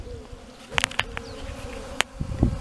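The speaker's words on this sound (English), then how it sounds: "Here's some bees that come into some moisture that come out of my water hose." Bees buzzing around moisture from a leaking water hose in the desert, several short close fly-bys and wingbeat bursts over a soft steady background hum.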